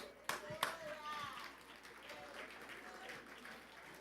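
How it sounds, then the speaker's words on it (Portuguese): Faint applause from a church congregation at a couples' gathering, opening with a couple of sharp claps and then settling into a soft, steady patter for about four seconds. "uma salva de palmas para Jesus"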